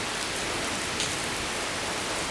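Steady rain pours down during a thunderstorm, a dense even hiss of drops on surfaces with no break or voices.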